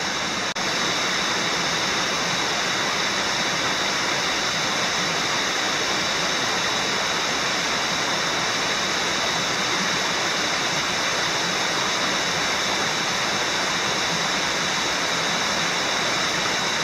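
The upper cascade of a brook beside the Appalachian Trail between Grafton and Stratton, Maine, roars as a loud, steady, close rush of falling water, unbroken and with no voices.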